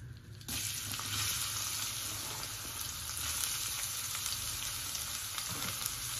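Onions sizzle in hot oil in a wok for a Bengali puti fish curry, a dense, steady hiss with a sudden start, close and moderately loud, with no voices.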